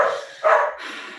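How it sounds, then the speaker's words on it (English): Dogs bark, a couple of quick, muffled woofs heard close together, moderately loud, with no voices over them. "It's the dogs."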